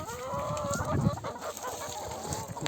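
Chickens cluck and murmur nearby in a continuous, irregular chatter, with no talking.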